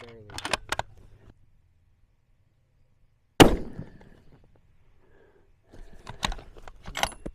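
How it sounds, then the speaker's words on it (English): A single sharp, loud bolt-action rifle shot fired at a target 810 yards away in a 5-10 mph crosswind, ringing out mid-clip between quiet stretches, with brief talking before and after. "we're gonna be shooting 810 yards, 5-10 mile an hour crosswind"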